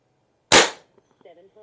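A single sharp crack from an Aselkon MX7s .25 caliber subcompact bullpup air rifle, loud and close, decaying quickly into faint room noise with a few soft knocks and a murmur of voice afterward.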